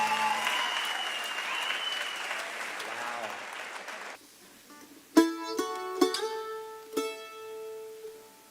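An audience claps loudly at a Country Music Hall of Fame induction ceremony, the applause swelling under an announcer's voice before giving way to bright stringed instrument notes.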